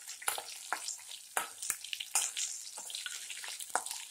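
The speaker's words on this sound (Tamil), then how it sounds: "ஆனியன் கொஞ்சம் வதங்கி இருக்கு" Onions sautéing in a pan for carrot chutney, a close crackling fry punctuated by sharp scrapes and stirs, loudest in short bursts over continuous sizzle.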